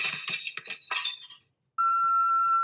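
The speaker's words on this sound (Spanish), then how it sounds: "Cristales rotos." Glass-breaking sound effect: a burst of bright shattering and tinkling shards for about a second and a half, followed after a brief silence by a steady electronic tone.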